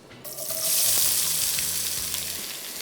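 Onions dropped into hot oil burst into a loud, hissing sizzle that swells quickly and then settles into a steady crackling fry close by.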